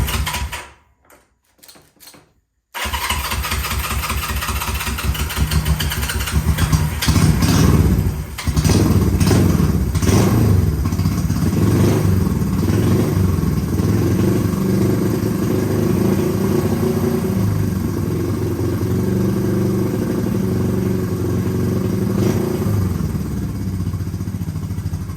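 Honda CL350 motorcycle engine coming to life after a few failed cranks, then idling loud and close with a rough, rapid exhaust pulse and blips of throttle revving up and settling back.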